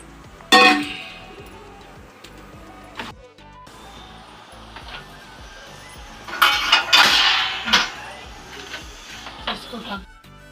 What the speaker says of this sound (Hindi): मैं अभी ये बर्तन उठा के रख देती हूँ